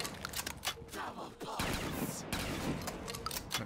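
Rapid gunfire from weapons shooting zombies in a Black Ops 3 custom zombies map, a dense run of sharp overlapping shots with game effects, and a voice talks briefly alongside.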